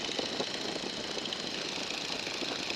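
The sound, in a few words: light aircraft engine throttled back to 1,600 RPM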